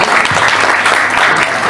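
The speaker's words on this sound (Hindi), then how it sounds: "बहुत सारी तालियां" Loud, dense audience applause at an event in a Punjab complex, a steady wash of many hands clapping close by for the whole brief moment.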